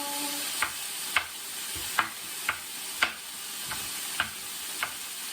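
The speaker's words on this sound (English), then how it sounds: "stir everything around" Food sizzles gently in a pan with smoky seasoning while a utensil stirs it, producing regular, evenly spaced scraping taps about every half second over a soft, continuous frying hiss.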